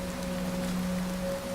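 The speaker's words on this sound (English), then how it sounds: "And that rain is just drowning him out completely." Heavy rain pours steadily in the Fallout 4 wasteland, a dense continuous hiss close around the listener, with a low steady hum sustained underneath and no voices.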